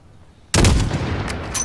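A single sharp rifle shot at a long-range target in Call of Duty Modern Warfare, a loud sudden crack followed by a short rumbling tail.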